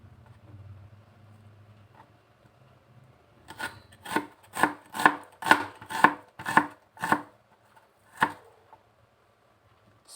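Onion chopped with a knife on a board for a budget ukoy and sayote soup meal: a quick run of about eight firm, rhythmic chops after a quiet start, then one final chop, close and clear.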